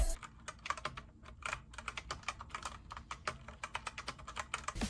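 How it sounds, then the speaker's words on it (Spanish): Rapid typing on an E-Yooso K-620 TKL mechanical keyboard with 88 keys and red Outemu switches, a close, quiet stream of soft clicks in an irregular rhythm with no voices. "Gracias a su switch rojo es suave al tacto, además que brinda una sensación de clic."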